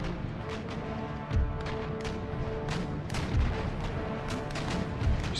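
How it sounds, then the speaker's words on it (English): Warship cannons boom repeatedly in an Empire: Total War naval battle, a dense barrage of broadside shots with heavy low thumps and sharp cracks rolling over a constant roar of battle noise, several louder blasts standing out. "She's putting some shots into the mast, but not enough."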